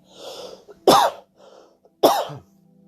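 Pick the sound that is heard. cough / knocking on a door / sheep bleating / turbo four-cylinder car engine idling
cough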